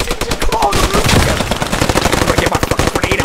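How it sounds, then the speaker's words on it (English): Loud, rapid bursts of machine gun fire in the World War II shooter Post Scriptum, set on the 1944 Western Front, firing close by in dense repeated volleys. "There's a machine gun upstairs in the front."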